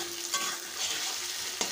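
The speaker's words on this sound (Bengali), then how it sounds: "এখন দুই তিন মিনিটের মতো টমেটোটা কষিয়ে নেব।" Tomatoes sprinkled with salt sauté in a pan, giving a brief, continuous hissing sizzle with a couple of soft spatula scrapes, close and unaccompanied by talk.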